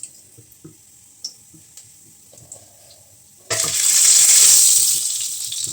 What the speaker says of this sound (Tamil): இப்போ கொஞ்சம் சீரகம் போட்டு எண்ணெய் ஊற்றிட்டோம்